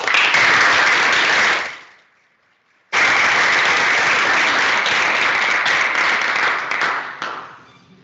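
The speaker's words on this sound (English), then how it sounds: "please just give a warm hand, warm applause for Siwan." Seminar audience gives a speaker warm applause in a loud, steady wash of clapping that cuts off, resumes strongly after a short pause, then fades away at the end.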